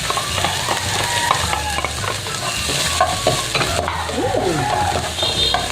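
Garlic stir-fries in a hot pan for pork fried rice, a continuous loud sizzle with scraping spatula strokes and clinks, with no talking.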